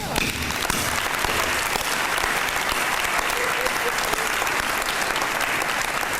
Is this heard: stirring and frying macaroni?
no